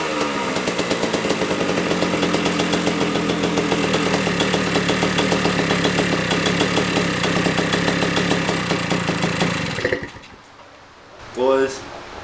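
A 1982 Honda MB5 motorcycle engine, fitted with a new ignition, runs steadily and loudly with a rapid, uneven putter for about ten seconds, then cuts out, followed by a brief rising rev-like burst near the end.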